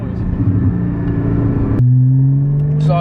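Inside a moving Porsche Cayman GT4 718, the engine drones loudly and evenly, then drops to a lower pitch after a gear change, with a brief voice at the end.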